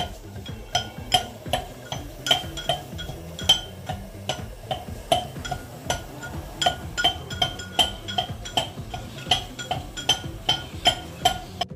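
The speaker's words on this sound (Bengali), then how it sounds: "মাসির আদা ছাঁচাছাঁচি চলছে" Ginger being crushed and spices ground by hand in a home kitchen during wedding preparations, making a steady, repeated clinking pound that keeps a regular rhythm throughout, close by, with faint background activity.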